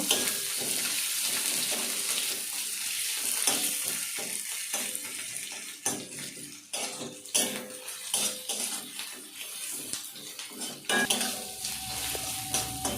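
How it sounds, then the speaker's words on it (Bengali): Onions fry in hot oil while a utensil stirs and scrapes against the pan for a Bengali lentil-fritter curry, a close sizzle broken by repeated metallic clinks and scraping strokes, with no talking. "পেঁয়াজ দিয়ে একটু কষে নেব"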